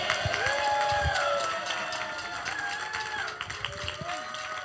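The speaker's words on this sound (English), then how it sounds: "Can we get a round of applause for our amazing worship team?" A church congregation at a teen service applauds the worship team with steady clapping and a few cheers, while a voice carries over it.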